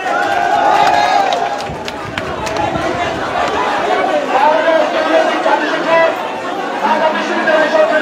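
Students chanting rival slogans at Madhur Canteen, a loud, dense crowd of voices shouting and chattering continuously in an echoing indoor space.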